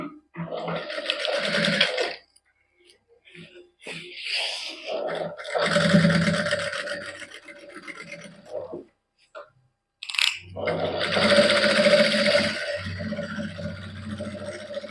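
Electric sewing machine running in bursts while stitching a fine folded edge on a designer salwar in a Punjabi boutique, a steady whirring hum that stops and starts several times, with talk in between.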